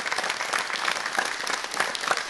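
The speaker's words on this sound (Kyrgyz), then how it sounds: "Али, кол чаап коюңуздар." A studio audience at a Kyrgyz TV talk show bursts into steady, full applause, an even wash of many hands clapping close by.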